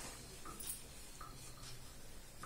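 Pen writing on paper for the receipt side of a cash budget, a faint, steady scratching with a few short strokes, close and quiet with no talk.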